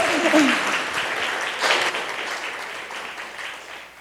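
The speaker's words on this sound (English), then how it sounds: "yes, please clap" Audience applause at an annual meeting and appreciation awards event, a steady wash of clapping throughout with a brief voice at the start and a swell around the middle.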